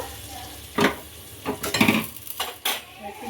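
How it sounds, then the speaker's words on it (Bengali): Five-spice seeds, dried chilli and bay leaf temper in hot mustard oil for a vegetarian Bengali dish, sizzling close by while a utensil stirs and scrapes the pan in uneven bursts. "পাঁচ ফোড়ন শুকনো লঙ্কা তেজপাতা সর্ষের তেলে ভেজে সেটাকে ফোড়ন দেওয়া হচ্ছে"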